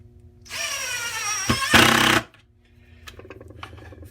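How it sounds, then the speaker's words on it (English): A power drill drives long screws into caster mounts, a loud close whirring burst of about two seconds that revs up, then stops, followed by faint clatter. "We're going to drive those long screws on those 3."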